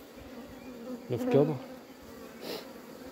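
Honeybees buzz at an open hive colony during a swarm-check inspection, a steady close drone with a brief louder swell midway, while someone speaks quietly under it.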